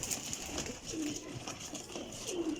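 Pigeons coo softly from a loft of newly caught birds, two low rolling coos standing out over a steady bed of rustling and background noise.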